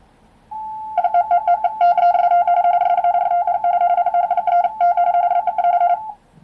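A Morse code beacon received on the 40 meter amateur band with a QMX transceiver: a steady tone starts, then breaks into rapid keyed beeps with richer tones, loud and clear until it stops near the end.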